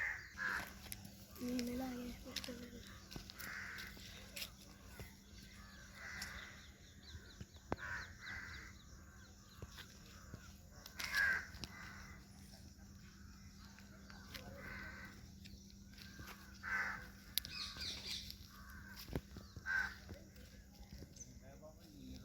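Several crows caw intermittently around a village pond in rural Telangana, the calls fairly distant and scattered across a steady outdoor background with a low hum.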